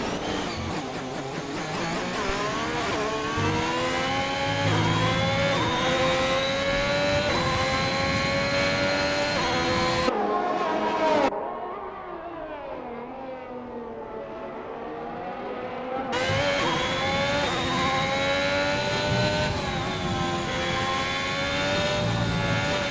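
Onboard race car engine in a sim racing game at Bahrain, held loud at high revs with rising and falling pitch through upshifts, then a sharp drop to a lower drone under braking before climbing back to full throttle.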